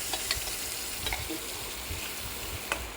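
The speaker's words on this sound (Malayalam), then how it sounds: "നമ്മുടെ ബ്രിഞ്ചാൾ ഇവിടെ ഫ്രൈ ആയി വന്ന് ശേഷം നമുക്ക് ഈ മിക്സ് അതിലോട്ട് ആഡ് ചെയ്തിട്ട് നന്നായി ഒന്ന് ഇളക്കി കൊടുക്കാം" Brinjal frying in a pan as ground paste is stirred in, giving a steady close sizzle with a few soft scraping stirs and light clicks throughout.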